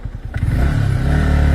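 A motorbike rides along a badly broken, rough road. Its engine drones loudly and close, with clattering and scraping bumps through a short burst.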